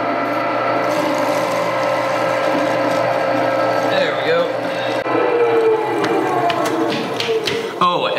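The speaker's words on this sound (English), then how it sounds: "If anybody's wondering about my meat grinder, this thing is from like the late 70s, early 80s. It has an oil pan with oil in it." A late-1970s or early-1980s meat grinder with an oil pan runs continuously and loudly up close, a steady mechanical whir with gear clatter and ratcheting, while someone talks over it.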